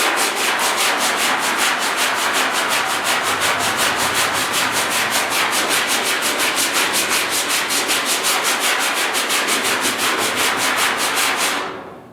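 Rhythmic, rasping strokes of 80-grit sandpaper rubbing back and forth over the cab bodywork of a 1956 Mercury, loud and close, continuing steadily before stopping abruptly at the end.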